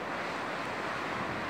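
Sea waves breaking on the Livorno coast in winter under a mistral wind, a dense, continuous roar of surf and gusting wind noise with no distinct individual waves and no voices.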